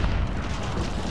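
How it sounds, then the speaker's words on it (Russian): A grenade goes off in Call of Duty: Modern Warfare, heard as a dense, sustained low rumble with no distinct onset, filling the whole short moment at steady loudness. "Граната пошла."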